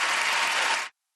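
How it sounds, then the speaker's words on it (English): Coaches clap rinkside after an ice dance free dance at the World Championships, a brief dense burst of applause lasting under a second before cutting off abruptly. "Their coaches applauding in the background."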